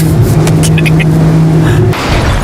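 A million-dollar sports car revs loudly while doing donuts on a private racetrack, a harsh sustained engine roar close by that dips briefly near the end, with no talking.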